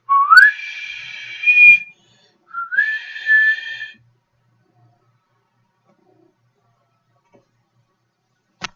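A person whistles to call an animal: two loud, close, rising-then-level whistles a moment apart, followed by silence and a faint click.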